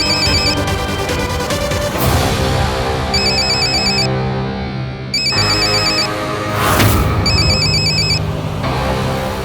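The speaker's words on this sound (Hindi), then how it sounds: "तेरा फोन बज रहा है क्या?" A mobile phone ringtone plays loudly and steadily throughout, a repeating bright melodic ring tone layered over music in a Hindi TV drama scene, with no talk.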